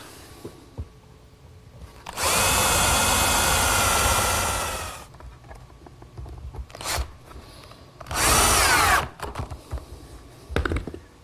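Two bursts of a high, whining power drill boring screw holes in wood, the first about three seconds long and the second shorter, separated by quieter handling noises and clatter.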